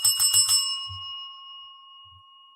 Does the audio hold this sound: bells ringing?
yes